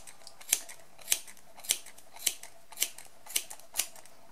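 Scissors snip pompom yarn in seven evenly spaced crisp cuts, roughly two each second, close and clear over a quiet background with no talking.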